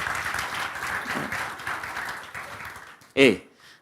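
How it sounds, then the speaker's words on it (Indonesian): Congregation at a Sunday evening church service applauding, a steady wash of clapping with a voice over it, then a sudden loud shout and a brief quieter tail. "Tepuk tangan kemuliaan bagi nama Tuhan"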